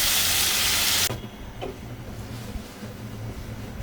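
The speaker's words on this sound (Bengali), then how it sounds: "এখন আমি নারকেলের দুধটা দিয়ে দেব।" Coconut milk hits a hot pan for fish curry: a loud, bright sizzling hiss for the first second, then it drops abruptly to a softer, steady bubbling simmer.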